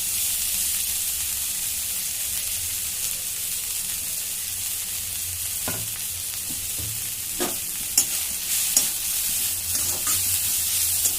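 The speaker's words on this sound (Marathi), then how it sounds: "आता हिला जरा परतून घेते" Cumin seeds and finely chopped fenugreek leaves sautéing in a little oil in a pan, a steady high hiss of frying throughout, with a few sharp spoon scrapes and clicks toward the end and no voices.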